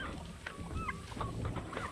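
Ducks following a person around a gamefowl breeding farm, giving a few short nasal honking calls near at hand over a busy background of other poultry and farmyard noise.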